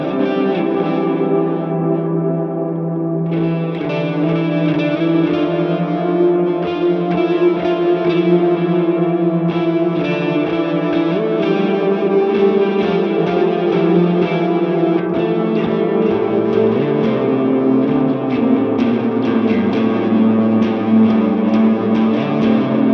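An electric guitar played through the Neural DSP Archetype Mateus Asato plugin with reverb rings out in sustained, dreamy chords and notes, loud and continuous, with no talking.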